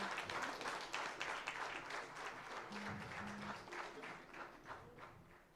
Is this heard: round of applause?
yes